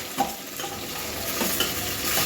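Onion and tomato frying in a pan under steady hissing sizzle, with a few soft stirring scrapes near the start and again later, close and continuous with no talk.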